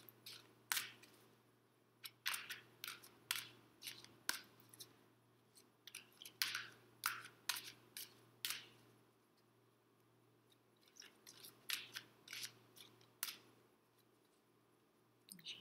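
Oracle cards riffle and flick in short bursts, quick rustling snaps repeating with brief pauses between, close and fairly quiet.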